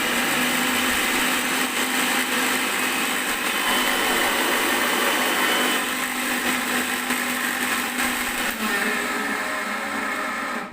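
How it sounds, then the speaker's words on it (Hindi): A faulty household mixer grinder runs continuously with an abnormal, harsh high-pitched whine and buzzing rattle, loud and close for about ten seconds with no talking. "इस मिक्सर ग्राइंडर में साउंड का प्रॉब्लम है।"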